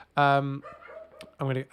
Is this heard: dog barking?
yes